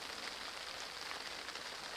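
Steady rain falls outdoors at a carp fishing lake, a soft, even hiss of drops pattering on surfaces with no talking.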